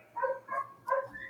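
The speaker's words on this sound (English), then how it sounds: "Can somebody shut my dog up?" A dog gives three barks in quick succession, each soft with a whimpering tone, faint and some distance off, no talk over them.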